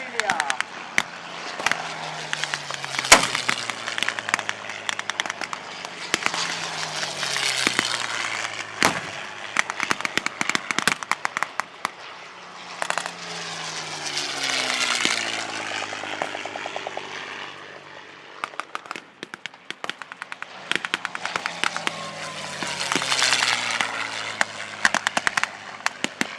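A red-nosed P-51 Mustang makes repeated passes at an airshow, its piston engine drone rising and falling in pitch as it sweeps by, loud and sustained, with crowd and announcer voices underneath.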